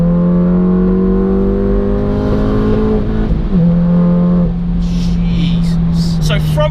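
A 543 bhp manual SEAT Leon Cupra on a 100-octane map pulls hard, its engine note climbing steadily through the revs, dropping at a gear change, then climbing again, loud and close with a voice over it.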